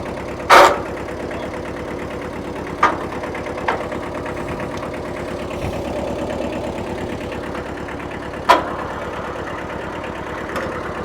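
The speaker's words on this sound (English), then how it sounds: "our free tractor started easy" A 1974 Kubota tractor engine idles steadily at close range with a knocking, rhythmic mid-pitched chug, broken by a few sharp clanks and bangs.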